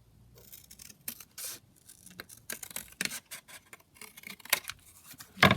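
Scissors cutting paper for a junk journal pocket, a series of short crisp snips and rustling slides in irregular bursts, close and fairly loud, with paper handling between cuts.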